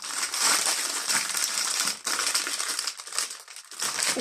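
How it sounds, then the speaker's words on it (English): Plastic packaging crinkles and rustles close to the mic while Temu items are unboxed, with continuous crackling and brief pauses and no talk. "Excuse the rustling."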